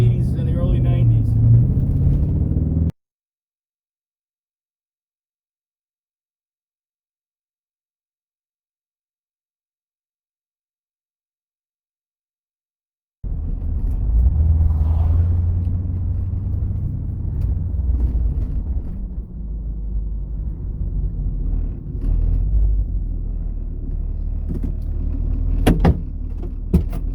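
Rumbling drive in a 1991 Chevy S10 Blazer swapped with an LS3 V8, steady low engine and road noise with a long silent gap in the middle, then the rumble returns under occasional talk.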